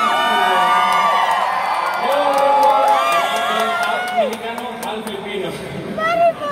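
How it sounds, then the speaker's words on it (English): A crowd at the Mr. World 2019 final cheers and whoops with shrill, excited voices that rise and fall, loud and near at first, then thinning toward the end. "a lot of people are cheering you"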